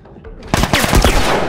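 Rapid burst of gunfire in The Last of Us Remastered, several close, loud shots in quick succession after a brief quieter lead-in.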